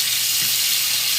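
Steady, bright sizzling of sausages frying in a hot pan, constant and close with no talking.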